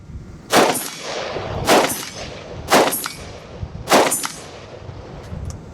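Four IWI X95 Micro rifle shots ring off a steel plate target at 100 yards, each sharp crack followed by a metallic clang, spaced about a second apart.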